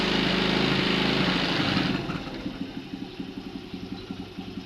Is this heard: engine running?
yes